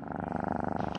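A person imitates a cat's purr, producing a steady, rapid, rhythmic rumbling throughout one close, loud second, with a slight breathy change near the end.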